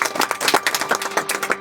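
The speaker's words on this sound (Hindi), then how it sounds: "जोरदार ताली" Loud applause from a group of people, a dense irregular patter of hand claps that carries on steadily without pause, with no talking.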